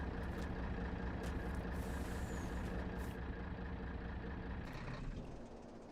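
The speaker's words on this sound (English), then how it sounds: "It's the other truck that's running." A truck engine idles in a British farming-map video game called The Oaks, a steady low droning hum with a constant tonal whine that eases slightly near the end.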